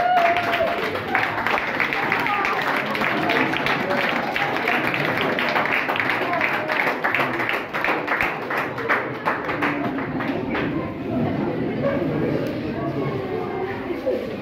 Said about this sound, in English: everybody stand up and clap